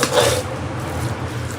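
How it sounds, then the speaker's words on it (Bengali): Green chillies being ground with salt on a stone for shrimp bharta, a short scraping, rasping rub that is loudest at the start, then a softer rhythmic grinding close by. "এখন বেটে নিবে মরিচটাকে ভালো করে।"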